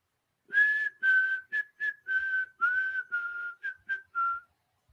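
A person whistles a melody, the tune heard in Kill Bill, as a clear solo of about ten distinct notes in a steady rhythm, some long and some short, close and alone with no talk.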